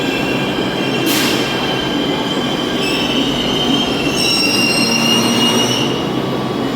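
A Delhi Metro train runs with a constant loud rumble and high wheel squeal, heard from inside the carriage, steady throughout.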